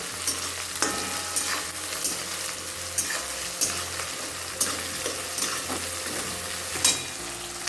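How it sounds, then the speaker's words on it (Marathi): Potatoes fry with green chili paste in a pan for a Sabudana Khichdi cooked in ghee, giving a steady close sizzle broken by repeated scraping stirs roughly every second. "मिरचीचं पेस्ट टाकलेलं आहे आपण याच्यामध्ये थोडंसं जे आहे ते फ्राय करून घ्यायच्यात व्यवस्थित"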